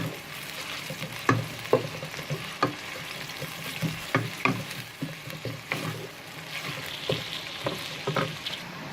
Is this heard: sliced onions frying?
yes